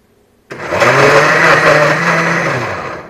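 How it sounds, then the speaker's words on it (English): An electric blender kicks on abruptly and runs at a steady, loud whir while blending prickly cactus, its motor droning close by before easing slightly toward the end. "Blend. I'm putting it on blend."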